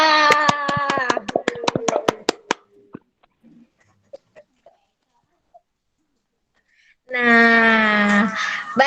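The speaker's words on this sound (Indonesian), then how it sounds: "Tepuk tangan yang meriah." A class in an online microteaching lesson claps together through open microphones. A quick burst of about a dozen sharp claps mixes with voices, followed by near silence and then a loud voice speaking.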